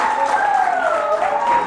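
Audience clapping as a speaker takes her seat at a community lecture event, heard as a steady wash of applause throughout, with a voice or tonal sound running over it.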